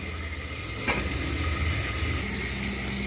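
Pointed gourd frying with chickpeas in a pan gives a steady, close sizzle throughout, with a brief stir or clatter near the start and no talk.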